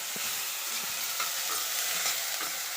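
Thin slices of raw banana peel fry in a pan, giving a dense, continuous sizzle with faint scraping stirs. It stays close and steady, with no voices.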